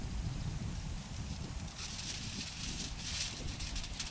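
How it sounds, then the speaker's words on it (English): Wind gusts buffet the microphone outdoors in a garden while blackberry layers are being wrapped in foil, producing a continuous low rumble with rushing, swelling noise that strengthens midway. "Wish it wasn't so windy."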